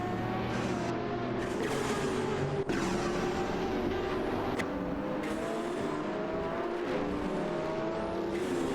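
A Ferrari LaFerrari and a Zinvo TSRS fighting wheel to wheel in a racing game, with revving engines rising and falling as cars pass close by, plus short tire squeals and no speech.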